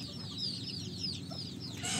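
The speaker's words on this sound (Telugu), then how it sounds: "కోళ్ళు. ఇక్కడ కూడా ఉన్నాయి, బయట తిరుగుతున్నాయి, లోపల తిరుగుతున్నాయి" Country chickens on a farm cluck and chatter in a steady, overlapping stream, moderately close, with no voices over them.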